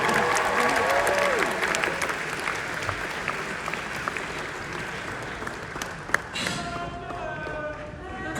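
Sustained applause from a large audience at the Autosport Awards honouring Sir Jackie Stewart, dense and steady, with voices audible within the crowd noise and a few louder claps near the end.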